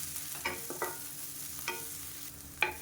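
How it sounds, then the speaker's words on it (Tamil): Onion and drumstick leaves sautéing in a pan, a soft steady sizzle with a few scraping stirs of a spatula, close and fairly quiet. "இதையும் சேர்த்து வதக்கி விட்டுக்கலாம்"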